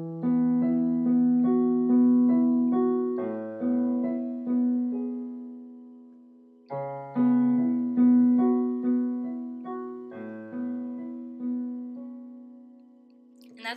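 A piano plays a verse with both hands, a bass line under repeated upper notes in two phrases separated by a brief gap. Each phrase decays into a held chord, close and clear with no voices.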